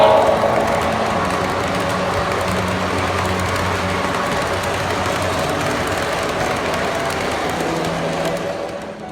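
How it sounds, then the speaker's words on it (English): A model Pennsylvania Railroad GG1 electric locomotive pulling a World War II Army train on a home layout, giving a steady continuous rolling rumble with faint rhythmic clatter, fairly loud and close, with no talk. "This is a Pennsylvania Railroad GG1 electric, pulling a World War II Army train"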